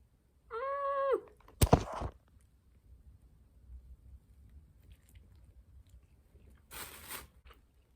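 Someone takes a crisp bite of octopus in a hotel room, then chews it close up in soft, quiet squishes. A short crunch comes later, and a brief faint tone sounds just before the first bite.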